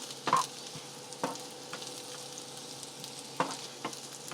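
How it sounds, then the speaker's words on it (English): Onions caramelizing in a pan for patty melts, stirred now and then: a soft, steady sizzle with a few sharp scrapes and clinks of the utensil against the pan, fairly quiet and close, with no talking. "those onions are coming along. I just let them set for a little while and give them a stir."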